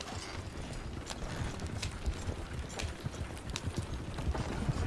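Rapid, steady horse hoofbeats clip-clop at a brisk pace in the video game Red Dead Redemption 2, moderately close, over a soft continuous background.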